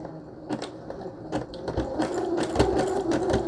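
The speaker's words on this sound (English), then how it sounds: "That's number 4 on my machine, on my Brother Project Runway limited edition." A Brother Project Runway limited edition sewing machine stitches at a lengthened stitch setting, running close and steady with a rapid mechanical chatter that rises and falls in short bursts.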